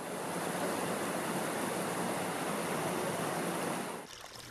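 A creek runs through a steep limestone gorge in Hungary's Visegrád Hills, its water rushing in a steady, loud, broadband flow that fills the scene before dropping off sharply near the end.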